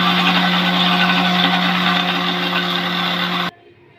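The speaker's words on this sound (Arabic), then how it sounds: "حسيت ان الخلاط مش قادر يفرمها كويس او يطحنها كويس" A blender grinding sesame seeds with oil runs loudly with a steady grinding hum and buzzing whir for several seconds, then abruptly cuts off.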